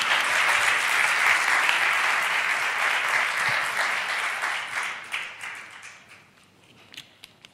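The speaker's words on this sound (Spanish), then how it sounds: "Un fuerte aplauso para Yago." Audience applause at a thirtieth-anniversary celebration for CEAPAT, a broad sustained wash of clapping from a crowd that holds steady before tapering off into a few scattered claps near the end.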